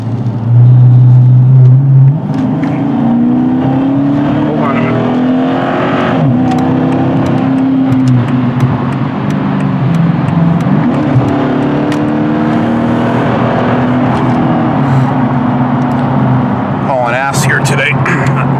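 A Dodge Challenger R/T engine drones steadily from inside the cabin while driving, with a brief loud rev at the start and someone talking over it throughout.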